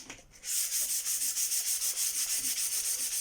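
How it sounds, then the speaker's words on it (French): Glossy varnished IKEA furniture being sanded with 120-grit sandpaper: rapid rhythmic back-and-forth rasping strokes, close and loud, steady for about three seconds after a short pause. "je vous recommande de casser cette brillance et de faire un ponçage au grain 120"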